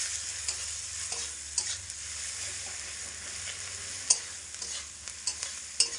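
Turmeric powder and ground dried chili being stirred in a pan, a steady sizzle with soft scraping strokes and a few sharper clinks, close and moderate in volume with no talking.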